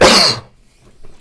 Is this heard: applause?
no